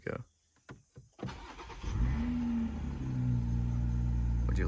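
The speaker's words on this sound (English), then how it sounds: "I'll just start up the car. The engine is cold, so I wouldn't be revving it" Cold start of a BMW X5 with a 3-liter twin-turbo engine: a few clicks and a short crank, then the engine catches and settles into a steady, close idle rumble.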